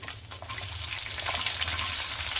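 Dried red chilies and onion sizzling in oil in a pan for a moringa leaves curry, a steady close hiss and crackle that swells slightly louder partway through.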